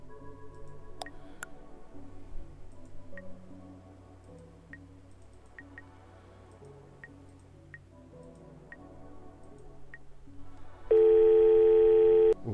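In the game The Sign, a steady telephone dial tone suddenly comes in loud near the end after a quiet stretch of soft ticks and faint background music.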